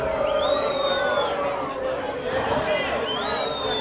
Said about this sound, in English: The crowd is not liking that call.